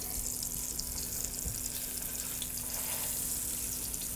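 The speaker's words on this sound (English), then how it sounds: "we're gonna start browning the sides of these" Meat sears in olive oil in a pan, a soft, steady frying hiss that holds evenly throughout, faint and close.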